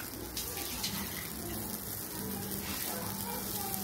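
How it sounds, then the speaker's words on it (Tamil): Water is poured into a cooking pot while paruppu rasam is being made, a steady close splashing gush that fills the short stretch at low volume with a faint sizzle beneath. "இன்னும் கொஞ்சம் தண்ணி ஊற்றிக்கலாம்."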